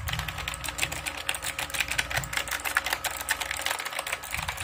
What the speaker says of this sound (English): Now here is my absolute favorite keyboard, and they just don't make them any like this anymore.